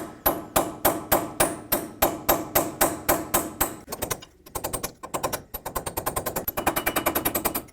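A pry bar is hammered against a part on a Ford F-150 front wheel hub, sharp metallic taps coming in a fast steady series, then a short pause and another rapid run of blows.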